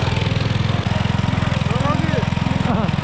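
A carrier vehicle's engine runs at a steady, rapid idle in cold mountain terrain, its loud, even chugging continuing without a break throughout. The engine is close by and no voices are heard.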